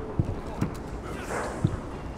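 Horse hooves in the Game of Thrones video game, a few sparse clip-clop steps at moderate distance, spaced irregularly over low background murmur with a voice present.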